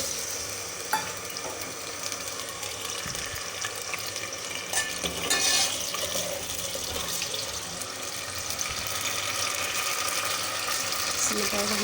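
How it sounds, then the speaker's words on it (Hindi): Potatoes fry in about a cup of oil over a medium flame, a steady, moderately loud sizzle with occasional stirring clatter and crackle rising and falling throughout. "इन आलू को हम 3 से 4 मिनट मीडियम फ्लेम पे फ्राई करेंगे।"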